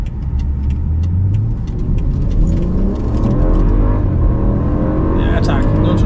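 A BMW X5 M Sport, a two-ton SUV, launches hard using launch control, its engine rising through accelerating revs with gear changes, loud and close from inside the car, with someone talking over it.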